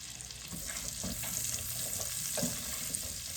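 Whole garlic cloves sizzle steadily in hot oil while being stirred, with a few soft utensil scrapes breaking through the continuous frying hiss.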